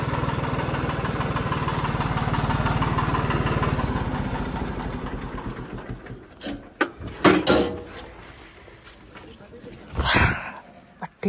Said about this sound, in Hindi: ट्रैक्टर को भी यहीं खड़ा कर देता हूँ